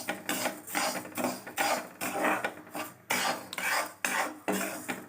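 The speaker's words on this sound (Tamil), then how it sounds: "அரிசியை நல்லா வறுத்து எடுத்துக்கலாம்." Parboiled rice is dry-roasted and stirred in a hot pan for idly powder, giving repeated scraping, rattling strokes of grains against metal in a fairly even rhythm, close and clear with no talking.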